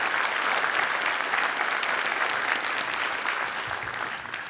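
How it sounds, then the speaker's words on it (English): Steady, full applause from a town hall audience honouring committee members, a dense wash of many hands clapping at a constant level that eases off slightly toward the end. "Please give them a round of applause for their commitment and their dedication"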